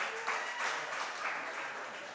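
A Grizzly crowd at a school sports show claps and cheers in a moderate, somewhat distant wash of applause with soft swells, heard briefly on its own.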